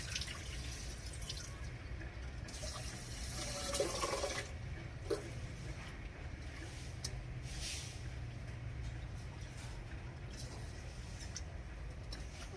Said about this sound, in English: First, I rinse the rice and put it into the rice cooker.